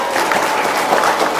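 Applause from a small group of people, steady dense clapping throughout at moderate loudness with no speech.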